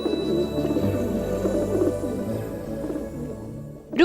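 Low, rounded cooing of a pigeon repeats steadily for several seconds, close by, with a sharp sound at the very end.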